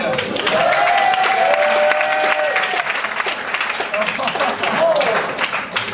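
An audience at a stage show claps loudly and steadily, with tonal voices or cheering over the applause and people talking throughout.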